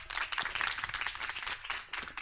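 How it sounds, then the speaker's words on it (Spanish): Scattered audience clapping at a Spanish-language learning talk, distinct individual claps in an uneven, lively rhythm that stays close and fairly quiet throughout, with no talking over it. "Un aplauso, por favor, para él."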